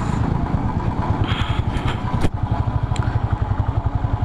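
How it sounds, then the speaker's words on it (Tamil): A motorcycle engine sputters and labours as it struggles to start, giving a steady, close, rough rhythmic chugging with a brief clattering burst in the middle. "பார்த்தீங்கன்னா ஷார்ட் ஆகிறதுக்கு ரொம்ப கஷ்டப்படுது வண்டி"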